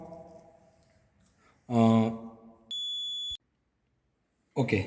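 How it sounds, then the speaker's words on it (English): A steady electronic buzz from the speaker of a Maxwell inductance-capacitance bridge circuit lasts under a second. A voice is heard before and after it. "now you can hear this buzzing sound"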